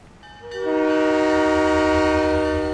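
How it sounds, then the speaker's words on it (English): A train horn from the video game Halo 3: ODST swells into a long, loud, sustained chord as a departing train rumbles low beneath it, holding steady to the end. "Last train. Now departing."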